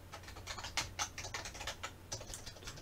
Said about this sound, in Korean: 타이핑이 잘 되지 않는 날입니다